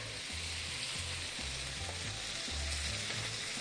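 Syrup for a hazelnut dry yufka dessert boils and sizzles in a pan, a steady close, bubbling hiss throughout with no talking.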